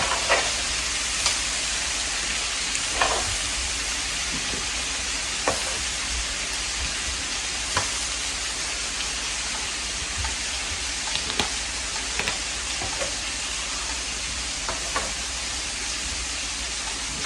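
Onions fry in a pan on a wood-burning stove, a constant close hiss of sizzling with occasional small pops and crackles.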